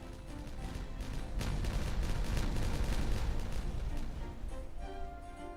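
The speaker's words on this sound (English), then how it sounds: "It's time for a good kaboom." A rumbling detonation of explosives in the beaver city-building game Timberborn swells into a loud, sustained roar of crackling blasts and debris, then slowly fades.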